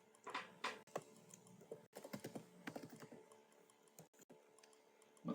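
Quiet, close tapping on a computer keyboard comes in irregular bursts of keystrokes with short pauses between them, and nobody speaks.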